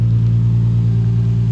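A Nissan 350Z HR with a muffler delete idles with a steady, deep, throaty rumble, loud and close, holding an even tone throughout with no other sounds.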